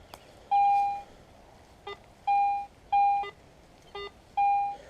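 Electronic tones from a metal detector beep repeatedly: long steady beeps alternate with short warbling chirps, fairly loud and irregular over faint background hiss.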